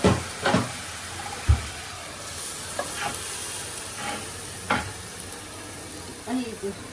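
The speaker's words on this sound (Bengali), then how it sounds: "আলু ভাজি বসালাম" Potato bhaji fries in a pan on a stove with a continuous close sizzle. Occasional stirring scrapes and knocks sound against the pan throughout.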